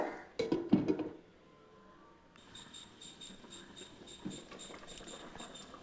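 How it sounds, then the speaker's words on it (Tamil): A lid goes onto a pot of simmering Tamil-style fish curry, giving a brief cluster of metallic clanks up front before settling into a low, steady bubbling hiss alone. "மூடி போட்டு மூடிக்கலாம்"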